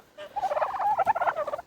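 A turkey gobbles in one quick warbling burst of rapid rising and falling notes, close and clear with a quiet yard behind it.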